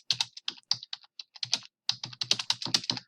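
Someone types quickly on a computer keyboard, crisp close-up key clicks in uneven bursts with a short pause midway, no voices over them.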